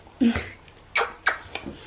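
A pet dog whimpers and whines in short bursts at close range, with several brief yelps spaced through a quiet room; no one speaks.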